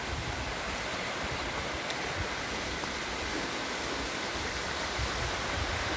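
A clear mountain river rushes steadily, a loud, constant broad roar of flowing water close by with no voices.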